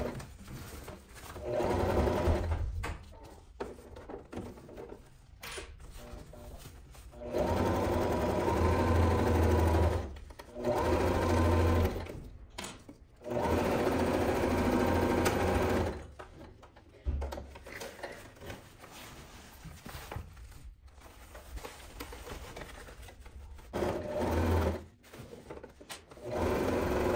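A sewing machine stitches a nylon bag seam in several bursts of rapid, close mechanical whirring separated by short pauses and quieter handling sounds.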